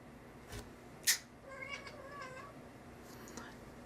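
A house cat meows several times at a faint, indoor distance, with one sharper cry standing out among softer mews.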